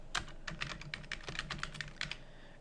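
Someone types on a computer keyboard, with quick, irregular keystrokes close by that come in short bursts and have no talk over them.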